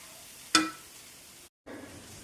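Vegetables for Schezwan egg fried rice hit a hot IKEA pan with one short, sharp sizzle burst that fades into a low, steady hiss, broken by a brief dead-silent gap.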